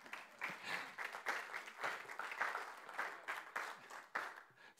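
Sustained applause from a crowd, many hands clapping steadily and moderately loud throughout, with no voices standing out.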